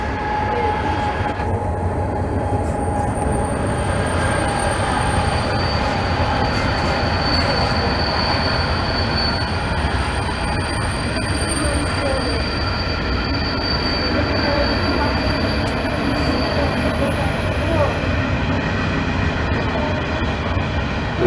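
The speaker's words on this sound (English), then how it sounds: "That train's legit short." A short freight or passenger train rolls past at Bargo on the railway, wheels squealing loudly and steadily throughout, with rumbling rail noise and a continuous metallic screech, close and without talk.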